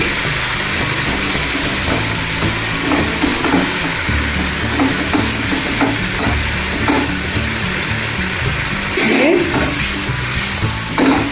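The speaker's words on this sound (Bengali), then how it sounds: "এবার আমি একটু গরম জল এর সঙ্গে অ্যাড করে দিচ্ছি" Hot water goes into a pan of mustard-spiced pomfret, setting off a loud, dense, sustained sizzle and bubbling with occasional stirring scrapes, and a low rumbling hum running steadily underneath.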